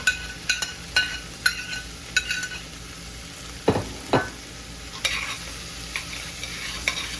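A spoon stirs cut-up sweet potato into a simmering chickpea and coconut cream curry, with scraping strokes and light clinks over a steady low sizzle, no voices.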